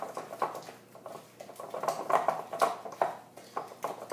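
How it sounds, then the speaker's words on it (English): Sugar being mixed into soft butter for eggless espresso cookie dough in a bowl, with irregular scraping and soft tapping of a utensil against the bowl, close and fairly quiet. "we're just going to mix this till it's well combined"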